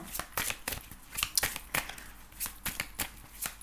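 Tarot cards being drawn and handled from a deck, giving a quick run of crisp, papery shuffles and flicks in irregular bursts, close and fairly quiet, with no talking.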